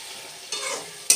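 Bottle gourd being stir-fried with salt, turmeric, green chili and sugar, a steady scraping sizzle that swells midway and ends with a sharp, loud burst of frying.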